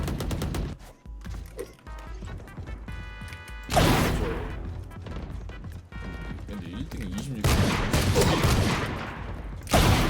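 Sheriff pistol fire in a video game, with several sharp, loud shots and bursts ringing out amid busy game effects and music, while people talk over them.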